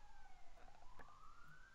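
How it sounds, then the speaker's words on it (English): A siren wails faintly in the distance, its tone sliding steadily upward over a low background rumble. "Can you hear the sirens in the background?"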